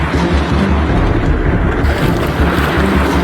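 Floodwater from a cloudburst in Pakistan rushes in a dense, continuous roar with wind buffeting the microphone, loud and close for the whole stretch.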